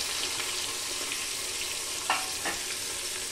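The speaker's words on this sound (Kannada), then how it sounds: "ಅವ್ರಿಗೆ ನಾವು ಬೇಯಿಸ್ಕೊಳ್ಳೋಣ, ಉಳ್ಳಾಗಡ್ಡೆ ಬ್ರೌನ್ ಆಗಬೇಕು" Sliced onions with mustard seeds frying in a pan for masala rice, a continuous close sizzle with two brief stirring scrapes near the end.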